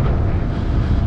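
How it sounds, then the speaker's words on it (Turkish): Strong wind buffets the microphone beside a river, a continuous loud low rumble with steady gusting and no pauses. "Bugün de çok rüzgar var."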